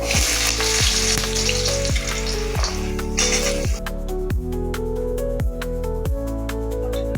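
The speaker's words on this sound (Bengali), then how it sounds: "আলুগুলো একটু ভেজে নিই" Potatoes fry in hot oil in a kadai for paneer posto, with a loud, close, continuous sizzle throughout and a steady rhythmic tonal beat underneath.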